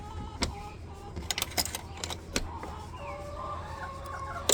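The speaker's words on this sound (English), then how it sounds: "Chickens." Chickens in a farm coop cluck and squawk in irregular bursts nearby, with sharp clicks and scratchy calls over a steady fan hum; no one speaks.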